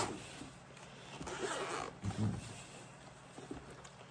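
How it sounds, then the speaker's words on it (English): A bag zipper is pulled open in a soft, close rasping run with a couple of brief tugs, faint and alone in a quiet room. "let's unzip this bad boy"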